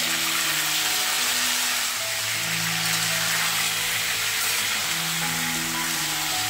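Potato and Malabar spinach pieces fry in hot oil with five-spice seeds, giving a loud, steady, close sizzle that continues without a break and with no talking.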